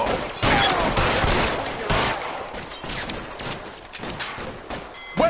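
Gunfire in the video game LA Noire, rapid bursts of shots blending into a dense, loud barrage with echoing cracks, and no talk.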